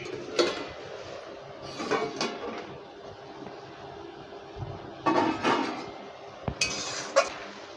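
A metal lid comes off a cooking pot of banana-blossom curry with moong dal, giving a few scattered clinks and clatters with quiet gaps between them and no talk.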